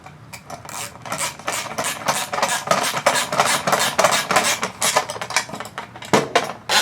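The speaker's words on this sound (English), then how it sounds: "And then take your 10mm socket or wrench, if you have just a wrench, Phillips screwdriver, and just tighten them up." A socket wrench ratchets as screws are tightened on a 2020-2023 Range Rover Velar R-Dynamic part, giving a close, steady run of rapid rasping clicks with no voices.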